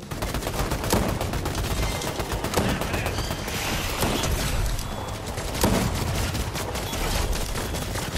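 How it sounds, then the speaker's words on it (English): Rapid gunfire in the battle royale game Fortnite, a dense, continuous stream of loud shots and bursts lasting throughout, with a few heavier cracks standing out. "I'm missing all my shots."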